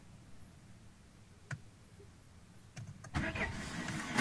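A Peugeot 407 starter motor cranks as the engine tries to start: quiet at first with a couple of brief clicks, then a loud, rough cranking burst that builds over the last second or so, close by.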